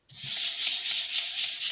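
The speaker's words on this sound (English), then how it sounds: "I'm using my sanding block, going in nice big circles." Sandpaper on a sanding block rubs briskly across wood in quick circular strokes, a close, continuous rasping hiss.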